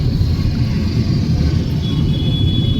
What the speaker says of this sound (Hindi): उधर मालगाड़ी जा रही है